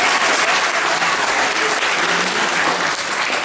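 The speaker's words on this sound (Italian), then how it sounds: "Fate un applauso che sono molto bravi" An audience at a dialect poetry event in Lagonegro claps continuously, a loud, dense and even applause that holds steady throughout.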